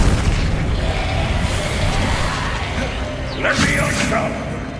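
An Expelliarmus spell cast in the video game Hogwarts Legacy: a booming burst near the end of a steady, noisy combat din, with voices faintly mixed in.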